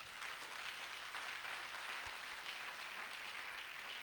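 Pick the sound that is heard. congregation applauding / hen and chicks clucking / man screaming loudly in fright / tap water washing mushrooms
congregation applauding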